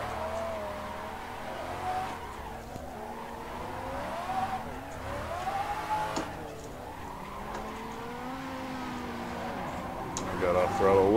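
Drift car in the Assetto Corsa racing sim on the Ebisu touge course, with a steady revving engine, shifting pitch and squealing, skidding tires throughout while someone talks over it.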